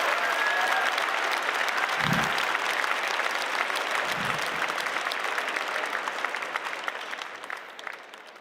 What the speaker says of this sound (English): We're going to keep clapping until they come.